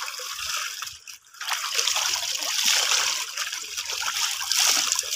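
Water splashes and trickles nearby, sloshing in uneven bursts with a brief pause, as hands rinse laundry in a basin.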